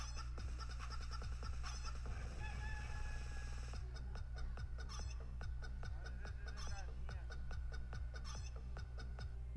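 Hens on a farm clucking and fowl calling repeatedly over a constant low background hum, a busy cluster of poultry sounds that continues throughout.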